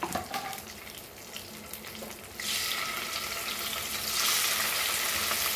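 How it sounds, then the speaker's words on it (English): Prawns fry in a pan for a Goan prawn masala, giving a steady close sizzle that swells into a louder, denser hiss partway through and keeps going to the end. "We'll fry our prawns just for few minutes."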